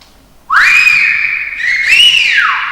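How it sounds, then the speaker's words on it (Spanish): Loud Gran Canaria silbo whistled language: two long sustained whistled phrases, the first rising then holding, the second sliding up and falling away, clear and close with no talk. "Ese silbo fuerte no necesita micrófono aquí."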